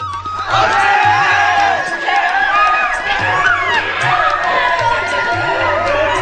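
Children swarm school playgrounds as vacation starts after exams, producing a loud, continuous wash of shouting, cheering and excited chatter with running footsteps mixed in. A narrator talks over it.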